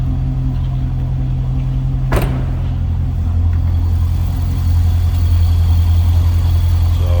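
A 2006 Chevrolet Corvette coupe with a 6-liter LS2 V8 idles close by with a deep, steady low rumble, a single sharp click partway through, and the engine note swelling slightly louder toward the end.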